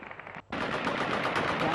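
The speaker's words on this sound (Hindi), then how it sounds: "तालिबान के आतंकी सड़कों पर गोलियां बरसाते हुए आपको दिखाई दे देंगे" Celebratory automatic gunfire in the streets of Kabul, Afghanistan: a brief pause, then a loud, sustained, rapid burst of rifle fire that continues to the end.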